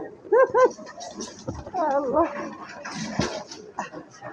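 Two dogs on the way to a fair give a few short whimpering barks and yelps near the start and middle, mixed with voices and street noise around them.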